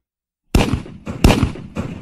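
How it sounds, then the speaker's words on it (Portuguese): Two heavy booms ring out in quick succession after silence, each followed by a rumbling echo, like distant cannon fire. "Estampidos de canhões precipitavam dos montes"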